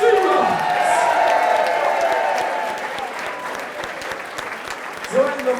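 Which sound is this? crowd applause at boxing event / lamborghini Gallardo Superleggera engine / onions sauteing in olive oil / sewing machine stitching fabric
crowd applause at boxing event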